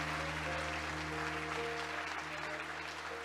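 A church congregation applauds during a sermon, a steady, muffled wash of clapping in a large room that continues without pause, with a low hum beneath it.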